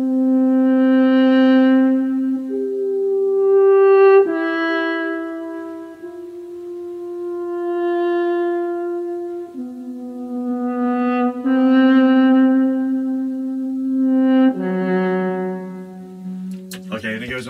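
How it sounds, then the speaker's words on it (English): Solo horn plays a slow, sustained melodic line of long held notes, with an echoing loop effect that makes the tones overlap and linger, clear and alone. "Here is the sound of the solo horn part."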